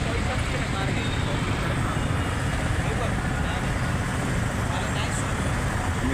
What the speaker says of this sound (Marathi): आज पूर्ण पुणे शहरामध्ये ट्रॅफिक जाम आहे